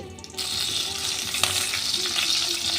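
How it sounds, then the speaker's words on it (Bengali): Dried red chili, slit green chilies and mustard seeds spluttering in hot oil as a tempering, a close, steady sizzle that starts abruptly and holds for a few seconds, no talking. "ভালো করে ফোড়নটা ভাজা হয়ে গেছে।"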